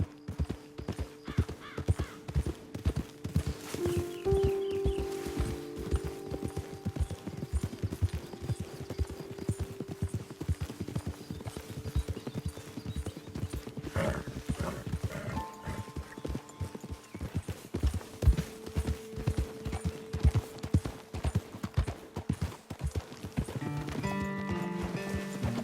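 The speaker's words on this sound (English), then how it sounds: "Best leave the horses back a bit." Horses' hooves clip-clop steadily as riders travel in Red Dead Redemption 2, a continuous rhythmic trotting close by, with an occasional snort or whinny and background game ambience.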